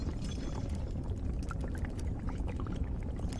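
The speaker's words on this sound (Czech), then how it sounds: "Tak už to bublá." A liquid bubbles and churns in a cauldron in the video game Valiant Hearts, a dense, steady watery rush that runs without pause and with no voices.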